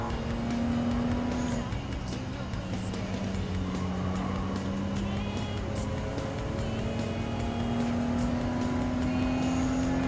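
Pontiac GTO race car in Gran Turismo 7, its engine droning steadily at high revs with the pitch rising and dipping through gear changes, loud and continuous without any voices.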